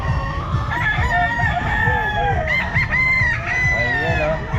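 Several roosters crow in overlapping calls at a pet market, close and loud, while hens cluck beneath them and a busy crowd murmurs in the background.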